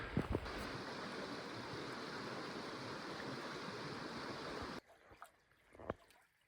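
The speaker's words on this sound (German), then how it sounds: "Hier ist die Quelle." Fresh water flowing from a natural spring in Tongariro National Park in winter gives a steady, close rushing trickle that stops abruptly, leaving quiet footsteps and small knocks.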